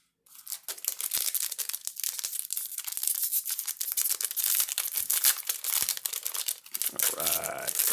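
Foil wrapper of a Magic: The Gathering Ikoria booster pack torn open up close, a loud continuous crinkling rip for several seconds with sharp crackles, then a brief pause and rustle at the end.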